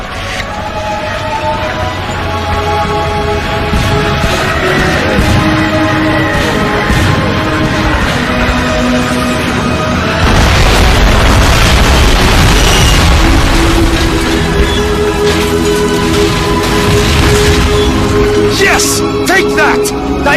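Artillery fire and explosions in the Call of Duty Finest Hour video game, heavy booms and rumbling blasts layered under continuous radio-style talk and a music score, growing denser and louder midway.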